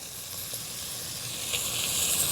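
Beef sizzles in a hot pot for Hungarian goulash, a steady, close, bright hiss of searing meat with a few small pops, running on without talk.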